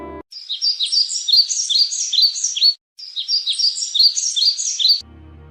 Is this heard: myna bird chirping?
yes